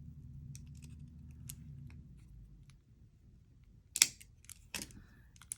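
A sharp snip of cutters through a cable chain for a wire-wrapped gemstone necklace, one crisp close cut with a softer second click shortly after, set against quiet room tone.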